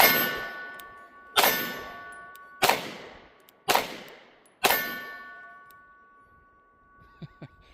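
Springfield Hellcat Pro Comp pistol shots ringing off a blue steel target at about 20 yards: five sharp metallic clangs, each leaving a long ringing decay, spaced roughly a second apart.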